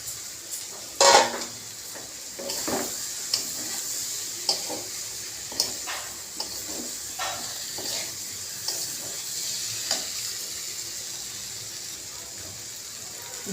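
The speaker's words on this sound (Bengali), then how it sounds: "আলুটা দিয়ে দিলাম।" Potatoes tossed into frying spice paste with cumin, a soft continuous sizzle with a sharp splash of sound near the start, then sporadic stirring clicks and scrapes at a moderate distance.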